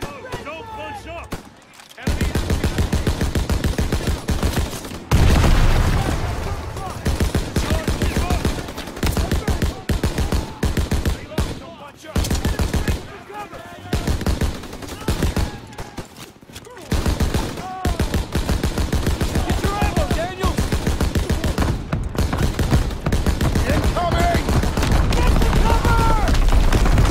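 Dense battlefield gunfire from the World War II shooter Call of Duty: WWII, with rapid rifle and machine-gun bursts and booms running almost continuously, loud and close, under shouted voices.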